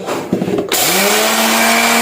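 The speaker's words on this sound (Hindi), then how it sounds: "अभी ये मैं टाटरी भी इसमें ग्राइंडर में पीस के पाउडर बना के डालूंगी।" An electric spice grinder starts up and whirs at a loud, steady high pitch while grinding citric acid (tatri) into powder, after a brief rattle of handling.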